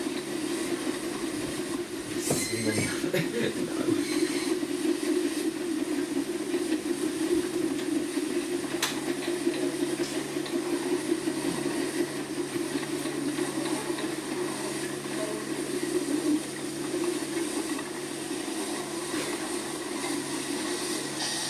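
A Talyllyn Railway steam train climbs a narrow-gauge line in Wales, its steady rumbling run and faint hiss continuing throughout, with one brief spoken word early on.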